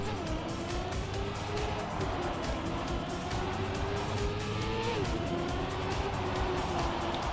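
Steady engine drone of racing cars in Trackmania, with a rising and falling pitch as one car overtakes, loud and continuous with a brief shift near the end.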